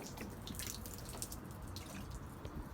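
Water drips and trickles over a sanded carbon fiber car hood, a faint, steady wet spatter with scattered small taps across the whole stretch.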